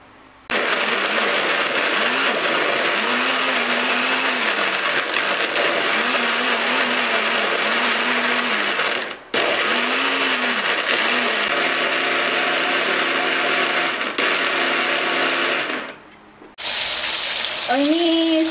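An electric blender grinds sambal, a loud, steady motor whir with a cyclic churning wobble, cutting out briefly twice before restarting, with no speech.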